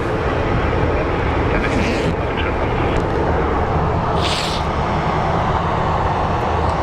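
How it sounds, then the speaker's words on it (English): A Boeing 757 airliner flying past at Phoenix Sky Harbor airport, a loud, steady engine roar that holds for the whole stretch with no gaps. "We've got two 757s, one after the other. So this one's headed to Detroit."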